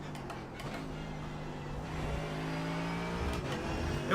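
GT3 race car in iRacing at Brands Hatch, engine droning steadily and rising in pitch as the rear wheels spin up through turn 1, loud and continuous with no talk.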